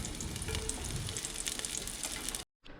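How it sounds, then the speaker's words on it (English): Garlic cloves sautéing in a pan, a steady close sizzle and crackle running on its own for a couple of seconds before cutting out abruptly. "Garlic cloves here. And saute those up for a couple minutes."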